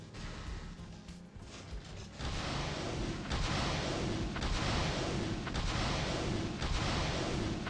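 Robot weapons in the mech combat game War Robots fire continuously in dense, loud bursts. After a quieter opening, the rumbling barrage swells and stays sustained, with booming impacts layered throughout and no talking.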